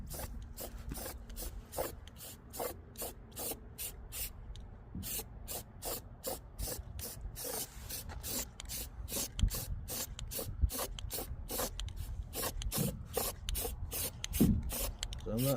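A pintle mount model gets a coat of white spray paint: short hissing spray bursts repeat at a steady, rapid rhythm, fairly quiet and close, with light handling noise underneath.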